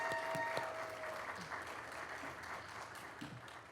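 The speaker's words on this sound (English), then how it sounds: "let's give her one more round of applause." Applause from the audience at a 2020 commencement ceremony as a student receives her certificate, steady dense clapping throughout with a brief voice cutting across the start.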